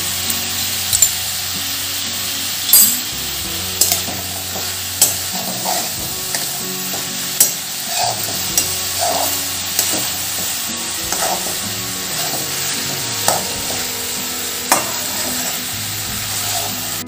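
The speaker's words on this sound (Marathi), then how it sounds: "भाजी कमी गॅसवर छान परतून झाली आहे" Mixed vegetables sautéing over low gas in a pan, a steady sizzle with repeated scraping stirs of a spoon at regular intervals, loud and close.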